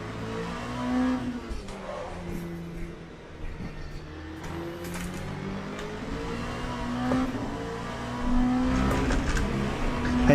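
LMP2 race cars in the video game Le Mans Ultimate, their engines whining up and down through gear changes with brief squeals and knocks, moderately loud and shifting as they pass.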